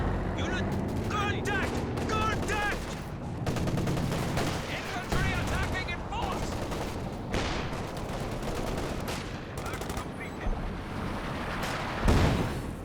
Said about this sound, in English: Is that major artillery coming in on the center?